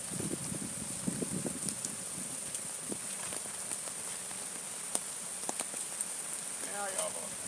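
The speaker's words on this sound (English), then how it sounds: "It's raining today." Rain patters faintly and steadily outdoors in Hanover, Jamaica, a soft constant hiss with scattered drops, while people talk nearby.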